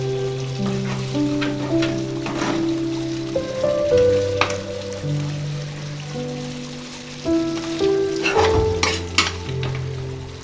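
Fish pieces with spices fry in a pan as a spoon stirs through them, a close, continuous sizzle broken by scraping strokes, with background tones and a faint voice-like hum underneath.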